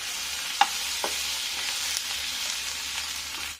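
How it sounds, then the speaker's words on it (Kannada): Ground masala roasts in hot oil in a pan for raw banana palya, giving a steady close sizzle and crackle with a few light stirring knocks and no voices. "ಒಂದು ನಿಮಿಷ ಮಾತ್ರ ಆ ಥರ ಎಣ್ಣೆಯಲ್ಲಿ ರೋಸ್ಟ್ ಮಾಡಬೇಕು"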